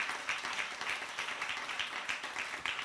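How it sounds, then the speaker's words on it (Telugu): A Ramayana discourse audience claps loudly and steadily, a dense wash of many hands with no voices over it. "గట్టిగా చప్పట్లు కొట్టండి"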